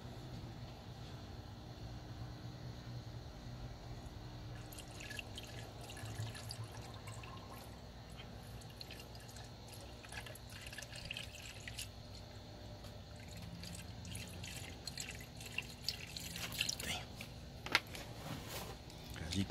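Antifreeze coolant pours and trickles steadily into an empty BMW X5 coolant reservoir with small splashing drips, close by, against a low constant hum in the background.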